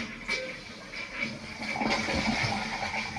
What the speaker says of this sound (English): you can see the water level is rising in the toilet